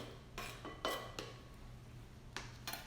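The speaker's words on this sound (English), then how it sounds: "So I will scrape this apple into my bowl." Chopped apple scraped off a chopping board into a bowl for a chicken salad, heard as a few short clattering scrapes and knocks against dishware, close and fairly quiet over a low steady hum.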